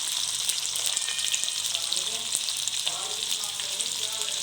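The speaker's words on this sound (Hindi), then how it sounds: "अब मैंने इसमें डालना है पहले प्याज डाल के मैं अच्छे से इनको कर लूँगी फ्राई" Onions sizzle steadily in hot oil alongside already-fried potatoes in a pan, a loud, even crackle running throughout with no talking.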